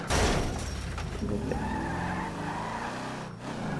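A car in GTA 5 launches hard with tires squealing and the engine roaring as it picks up speed.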